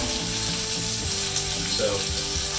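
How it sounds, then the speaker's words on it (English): A steady, continuous sizzle of chicken frying in a pan, with faint clinks and scraping mixed in, close and constant. "That sizzling away."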